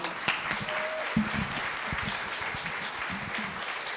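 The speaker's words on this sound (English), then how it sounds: "All right, everyone give a round of applause." An audience at a Stockbridge city council Women's History program gives a round of applause, a steady moderate clatter of many hands with a few louder claps up close.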